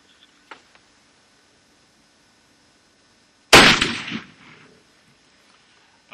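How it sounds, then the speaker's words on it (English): A single .243 rifle shot firing a 100 grain bullet from a rest, one sharp loud crack with a short rolling echo after a quiet lead-in with a couple of faint clicks. "here goes a 243 100 grain bullet"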